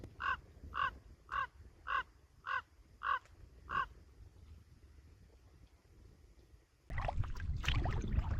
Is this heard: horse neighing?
no